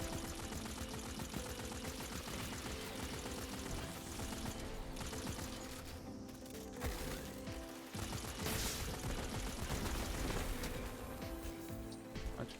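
Dense, constant combat noise from Destiny 2, with rattling automatic gunfire and grenade blasts piling up in a busy, chaotic mix, and a louder burst of explosions near the end.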